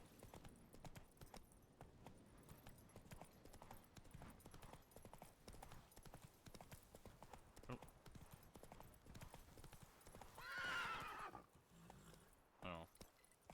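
Roach, the horse in The Witcher 3, gallops with rhythmic hoof clip-clops and lets out a neigh near the end, all faint under a player talking.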